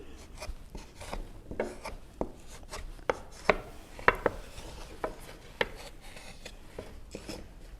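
Scraping and tapping of a tool clearing excess sugar from a wooden rakugan mould for Japanese confection, a steady run of short close scratches and light knocks with a few sharper clicks, no voices.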